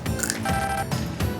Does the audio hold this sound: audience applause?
no